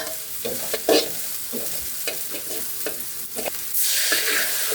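Garlic and chilies stir-fried in hot oil: a steady sizzle with repeated scraping stir strokes, the hiss swelling louder near the end.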